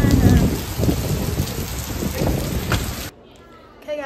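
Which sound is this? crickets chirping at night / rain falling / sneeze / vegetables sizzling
rain falling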